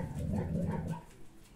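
A dog gives a short low bark or grumbling woof close by, lasting about a second before fading.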